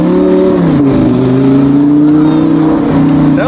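A supercar fitted with an FI exhaust revving loudly and close by, a strong sustained engine note that dips briefly near the start and then climbs and holds.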